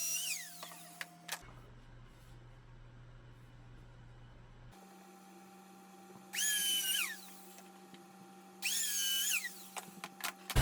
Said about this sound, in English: drill the holes for the dowels on all the parts